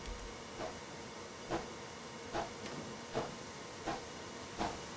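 A Merchant Navy Class steam locomotive in Train Simulator vents steam through open cylinder cocks: a steady, faint hiss broken by six evenly spaced, sharper puffs of steam, with no talking.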